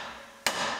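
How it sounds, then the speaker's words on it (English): A single sharp, loud impact from an air chisel rings out as bent retaining tabs are hammered back in during a ball joint job on a 2019 GMC Sierra Denali HD, with a quiet shop bed before it and no talk. "Hammer them back in with our air chisel."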